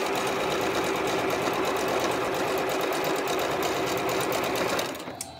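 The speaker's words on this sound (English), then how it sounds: "Then we're just going to start stitching a quarter inch." A sewing machine runs continuously, stitching quarter-inch seams on 3.5-inch quilt strips; a steady, close, loud mechanical whir that holds for nearly five seconds, then stops abruptly.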